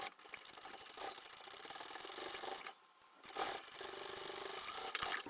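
A sewing machine runs steadily through bulky layers of bag fabric with regular thread, a close, continuous whirring hum that pauses briefly midway before resuming.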